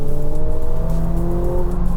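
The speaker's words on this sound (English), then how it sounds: "And the engine is alive, especially in its track setting." A 2024 McLaren 750S under hard acceleration, its engine roaring loud and close with a steady rising drone and no voices over it.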